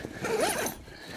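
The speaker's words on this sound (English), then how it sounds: "Good quality zips." A zipper on a swag tent is pulled in one quick sweeping run, close and fairly quiet, with no talking over it.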